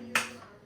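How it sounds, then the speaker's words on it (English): A single sharp hand clap during a seated exercise routine for Parkinson's, one crisp close transient that fades quickly, heard alone with no talk over it. "clap those hands together"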